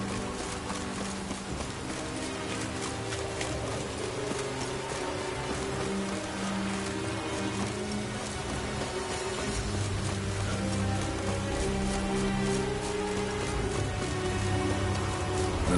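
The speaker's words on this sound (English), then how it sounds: "Looks like rain." Steady rain falls throughout a scene in The Witcher 3: Wild Hunt, a dense continuous patter mixed with horse hooves clip-clopping and a low sustained musical drone underneath.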